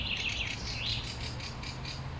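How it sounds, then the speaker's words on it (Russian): Small birds chirp and warble outdoors in a quiet, leafy setting, with repeated bright high trills and tweets over a low steady background hum, with no talking. "Только птички поют."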